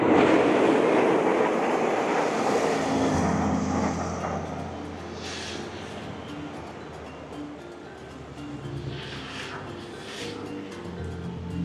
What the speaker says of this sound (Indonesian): Akhirnya ada yang lewat, walaupun hanya lokomotifnya saja.